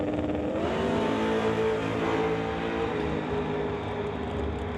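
Outlaw 275 and Limited Street drag race cars launch side by side in a semifinal, their engines a loud, sustained, close roar that stays steady throughout with no pauses.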